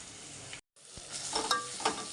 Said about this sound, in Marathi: मस्त हलवून घ्यायचं वास येईपर्यंत छानपैकी